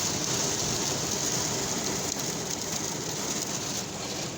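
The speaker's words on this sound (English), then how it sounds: "Yeah, absolutely crazy storm." Heavy thunderstorm rain with hail near Cheltenham, a steady dense roar of downpour lasting throughout, loud and continuous with no separate thunderclap.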